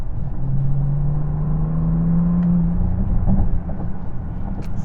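A 2022 Bentley Continental GT Speed accelerates hard with a deep, loud engine drone that climbs steadily in pitch, breaks briefly at a quick gear shift, then resumes as a low rumble from inside the cabin.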